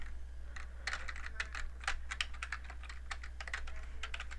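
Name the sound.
typing on a computer keyboard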